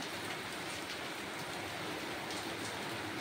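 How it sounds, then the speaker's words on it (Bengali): Heavy rain pours steadily in a rural orchard during jackfruit picking, a dense, continuous hiss of drops on leaves and surfaces throughout, loud and close with no voices. "অঝোরে বৃষ্টি পড়ছে, অঝোরে বৃষ্টি পড়ছে।"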